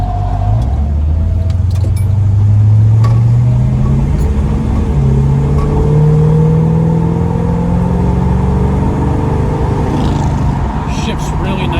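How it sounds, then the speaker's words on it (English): A 1968 Dodge Coronet cruises down the road, its exhaust giving a steady low rumble with engine note rising and settling as it shifts smoothly, loud and close throughout with no talk over it. "Nice and quiet, but a good rumble from the exhaust."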